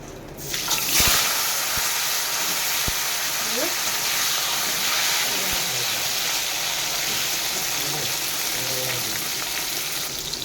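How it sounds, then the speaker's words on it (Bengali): Pointed gourd pieces fry in oil left in the pan after frying katla fish, giving a steady broadband sizzle that continues throughout with a few faint clinks. "ওই তেলে পটলগুলো ভেজে নেবো"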